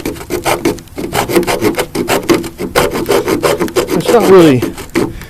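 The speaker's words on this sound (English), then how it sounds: "you can see it saws pretty quick, right?" An M48 Bowie knife's saw-edge spine cuts through a piece of oak in quick, rhythmic back-and-forth rasping strokes, close and loud, with someone speaking briefly over the sawing.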